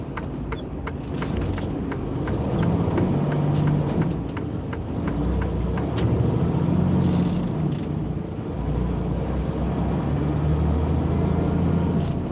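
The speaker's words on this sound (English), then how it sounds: "This truck is super slow." A slow diesel truck drives along with a steady low engine drone and rumble, the sound held at an even level throughout with faint rattles and clicks from the cab.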